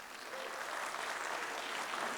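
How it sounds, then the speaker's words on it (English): Guests at a New Year's Day wedding reception applaud the groom's friends, a dense, even burst of clapping heard at moderate distance throughout. "So a round of applause for all of his friends."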